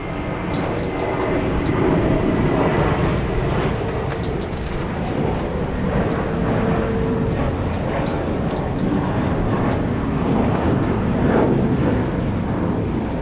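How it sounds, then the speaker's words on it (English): An Airbus A350-1000 airliner at Incheon airport, Seoul, heard as a steady, loud jet engine roar that holds constant for over thirteen seconds, broad and rumbling with wind, no voices. "So It's an A350-1000."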